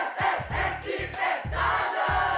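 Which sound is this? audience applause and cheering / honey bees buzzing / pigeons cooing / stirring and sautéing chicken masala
audience applause and cheering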